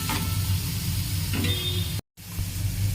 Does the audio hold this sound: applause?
no